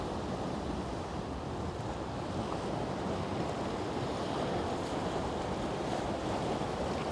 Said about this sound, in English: So much force in these waves, so much energy.